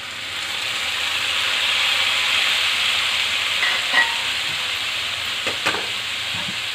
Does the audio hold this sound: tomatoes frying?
yes